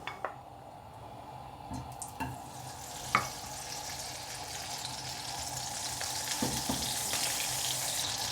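Fish frying in a pan with a splash of oil and a couple of butter cubes, giving a steady close sizzle and crackle with a few brief clicks and stirring knocks.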